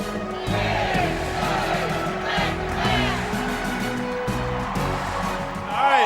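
A stadium crowd at a college baseball game in Arkansas roars and hollers the Calling the Hogs cheer, a big sustained wash of voices rising in long swells across the whole stretch.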